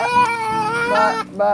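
A young child cries loudly and close by in a family home, a sustained wailing sob that rises and falls over a second or so, with no clear talking over it.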